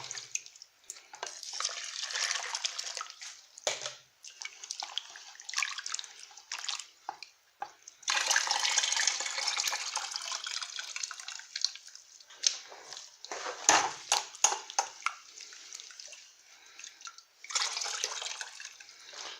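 Water is poured over plastic-mixed copper scrap to separate the copper by gravity, giving irregular splashing, trickling and dripping bursts that start and stop, close up and alone.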